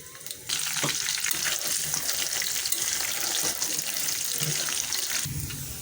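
Onion and garam masala frying in hot oil in a wok, giving a steady, close, dense sizzle that starts abruptly and holds evenly with no talk.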